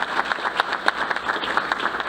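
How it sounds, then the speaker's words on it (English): Round of applause for a girls cross country team at a school board meeting, steady scattered clapping from a seated audience filling the room at moderate level. "Can we have a round of applause for the girls cross country team?"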